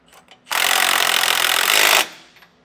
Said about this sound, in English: Then we'll come back with a 19mm socket and wrench and get this hardware tightened down.